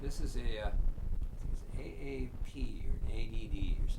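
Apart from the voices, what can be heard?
No everyday noise stands out behind the speech.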